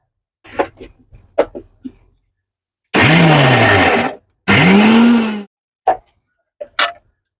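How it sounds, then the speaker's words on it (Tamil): A mixer grinder whirs loud and close, grinding masala with flour, ginger and garlic for cauliflower cutlets, in two bursts of about a second each with a brief pause between, framed by scattered clicks and knocks. "இப்போ இது மட்டும் செப்பரேட்டாக அரைச்சிக்கிறேன்"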